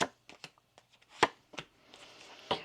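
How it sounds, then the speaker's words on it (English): A deck of tarot cards is shuffled by hand: a run of sharp, close riffles and taps in irregular bursts, with quiet gaps between them. "Let me get one more shuffle."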